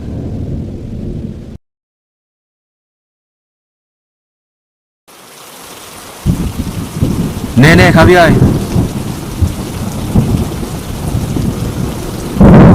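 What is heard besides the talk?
heavy rain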